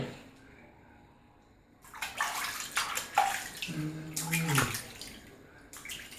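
A baby is bathed in a tub while being scrubbed, with water splashing and trickling in bursts after a quiet start, close by, and an adult talks softly at times.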